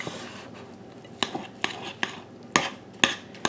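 Jalapeno bacon wonton filling with garlic is stirred in a bowl, a spoon scraping and clinking against the sides in about seven sharp, evenly spaced knocks over a soft background hiss, close up with no talking.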